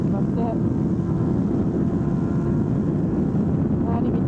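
Kawasaki Ninja 400 2018 model motorcycle engine held at high revs on the main straight of a race circuit, hitting the rev limiter in sixth gear, a steady dense roar with wind buffeting throughout.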